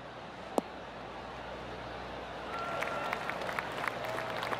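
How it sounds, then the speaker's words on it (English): Light, scattered golf clap from a distant gallery at a PGA Tour event rises and continues over steady outdoor background noise after a single sharp knock. "Oh, golf clap."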